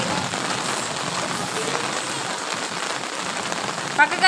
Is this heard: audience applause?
no